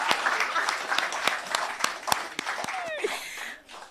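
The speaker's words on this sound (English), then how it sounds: "Hey, a round of applause, guys." Audience at a telecom company briefing giving a short round of applause, sparse sharp individual claps over a murmuring crowd, thinning out toward the end as a voice briefly speaks.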